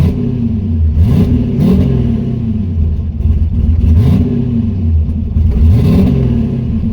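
A car engine fitted with a new clutch revs repeatedly, rising and falling in about four loud, close sweeps, with a slight stumble between them.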